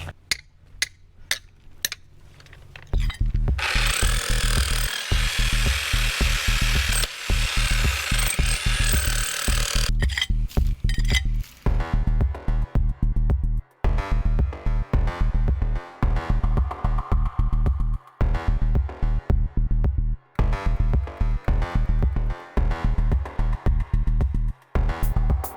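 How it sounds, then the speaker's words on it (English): Power chisel hammering in a garage, a loud rapid mechanical chatter that runs almost continuously with short pauses and shifts in pitch as the tool bites into the material. "we're gonna start trying to chisel here"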